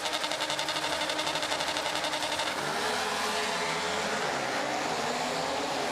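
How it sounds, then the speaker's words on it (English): Rallycross cars racing at Estering, engines buzzing and droning at high revs, with a pulsing rhythmic note at first that gives way to a dense blended roar of several cars. "You can really hear the different engine notes now with the different manufacturers that are in."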